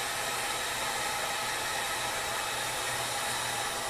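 A heat gun blows a steady, loud rushing stream of hot air to soften gum for removal, a constant broadband whoosh with no breaks and no talking.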